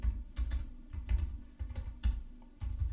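Computer keyboard being typed on while entering Python plotting code, bursts of quick close key clicks in an uneven rhythm with short pauses, no talking.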